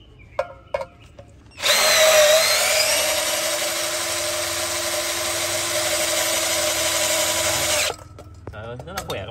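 A 4-cell cordless drill runs at speed setting 2 with a loud, steady, high-pitched whine that holds for about six seconds before cutting off, with clicks and brief talk before and after.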